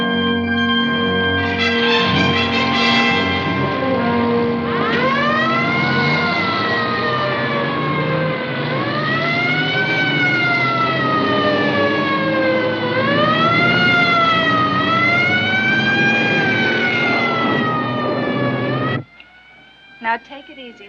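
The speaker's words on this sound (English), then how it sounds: "That's not the crash siren. Listen, it's constant." A constant, unbroken wailing siren, steady and loud, rising and falling in long sweeping cycles for most of the stretch before cutting off abruptly near the end, followed by brief voices.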